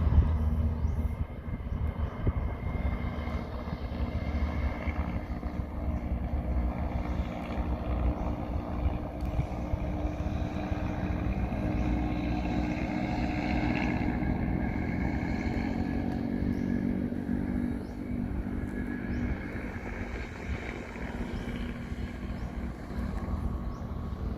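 Small black four-wheel tractor rolling along a crushed-stone gravel farm track, its steady low engine drone and rumble continuous and fairly close throughout, with no talking.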